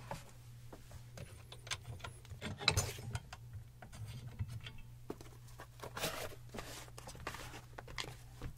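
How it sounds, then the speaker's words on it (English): An adjustable shoe tree is worked into a white Gucci sneaker, giving soft close rubbing, small clicks and ratchet-like mechanical ticks over a low steady hum, with no talk. "So you got your adjustable shoe tree in there."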